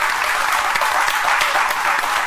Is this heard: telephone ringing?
no